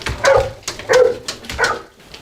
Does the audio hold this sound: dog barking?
yes